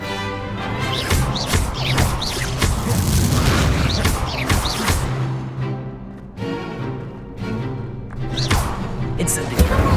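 Incendio fire spells cast in combat in Hogwarts Legacy, a dense run of loud booming blasts and thuds that swell and subside over several seconds, with brief pauses between bursts.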